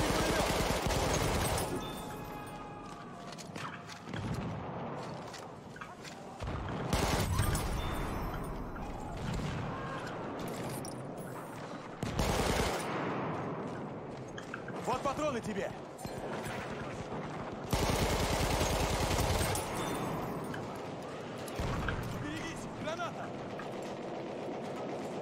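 Gunfire in the video game Battlefield 1, bursts of rapid shots in repeated loud volleys separated by brief pauses, with someone talking over parts of it.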